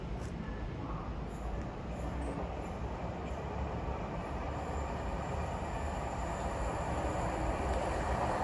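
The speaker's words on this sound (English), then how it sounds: "soon to pass through now will be a Greater Anglia service passing from London Liverpool Street to Norwich" Greater Anglia class 755 multiple unit, a three-unit set running from London Liverpool Street to Norwich, passing through Stratford station with a broad, steady rumble and rushing wheel noise that holds loud throughout.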